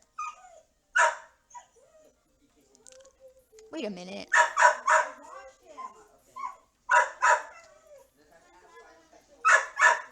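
A dog barks in sharp, loud bursts spaced irregularly, with whimpering and yipping in between; a person speaks briefly among the barks.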